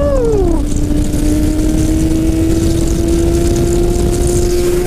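A motorcycle engine holds a steady high drone during a wheelie, after an initial quick rise and drop in pitch, loud and continuous over heavy wind rush.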